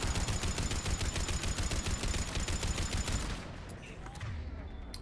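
Rapid automatic turret gunfire in the video game Mass Effect rattles loudly in a steady stream for about three seconds, then cuts off, leaving quieter game ambience.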